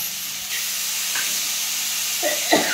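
Green chilies with chana dal fry in hot oil, making a steady background hiss and sizzle, with a couple of brief stirring clinks near the end.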